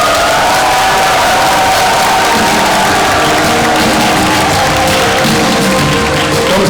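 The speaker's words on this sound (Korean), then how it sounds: "박수 부탁드립니다." Loud, sustained applause and cheering from a large audience at a Korean award ceremony for women's volunteer service, a steady wash of clapping with crowd noise throughout.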